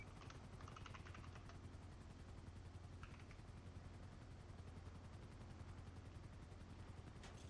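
Helicopter in the GTA video game, whose rotor gives a rapid, steady chopping thud throughout, with brief bursts of gunfire layered in, quiet overall.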